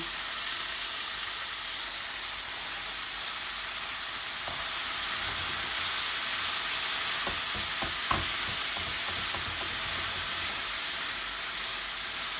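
Sorrel (chuka) leaves are frying with frozen garlic in a pan, making a steady close sizzle and hiss throughout, with a few stirring scrapes near the end.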